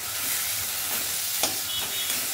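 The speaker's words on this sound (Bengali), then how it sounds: "আর এখানে পেঁয়াজ রসুন তো কষানো চলছে।" Onion and garlic sautéing in a pan, with a continuous close sizzle and frying hiss and a few soft stirring scrapes on top.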